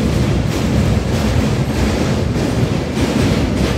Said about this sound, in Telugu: ట్రైన్ అయితే ఎగ్జాక్ట్లీ 6కి అయితే మూవ్ ఆన్ అయిందనమాట.